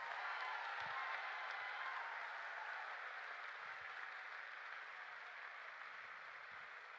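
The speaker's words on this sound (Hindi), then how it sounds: "मां बाप के लिए जोर से तालियां बजाओ" A large audience applauds loudly for their parents, a steady, dense wash of clapping that holds evenly for the full stretch with no voices on top.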